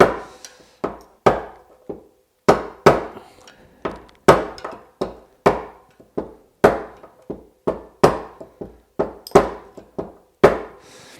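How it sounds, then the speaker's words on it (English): Sharp metallic hammer blows driving a wheel bearing's outer ring into a Bülk velomobile rear wheel, about twenty close, loud strikes in uneven clusters with brief ringing decays and quiet gaps between. "make sure you really hammer only on the outer ring of the"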